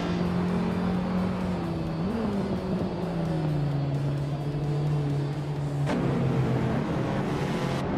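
Race cars, including a 1996 Dodge Stealth RT Turbo, accelerating off the start at the Ricardo Tormo circuit in a racing game, engines droning loudly and rising in pitch through gear changes with a sharp shift near the end.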